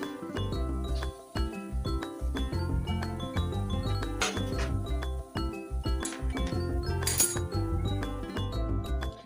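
A metal lid clinks and rattles as it comes off a pot of radish cooking with gram flour in a home kitchen, with bright ringing metallic taps over a dense, busy background.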